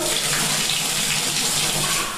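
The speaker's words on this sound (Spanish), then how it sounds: "Ponemos la tubería a sacar agua" Water gushes steadily from a pipe outlet during a flush to prevent legionella in an apartment, a continuous, loud, hissing rush throughout with no talking.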